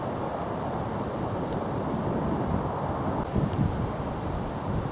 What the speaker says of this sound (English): And as you can hear, pretty windy still.